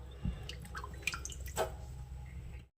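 Rice-rinsing water drips and trickles out of a clay pot, a faint close sequence of small drips and splashes with a soft squishy gurgle before it stops.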